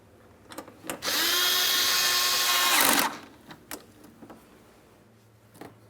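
A power drill snugs up headlight mounting bolts on a 2008-2016 Chrysler Town & Country, one steady whirring run of about two seconds that winds down, framed by light clicks and handling noises.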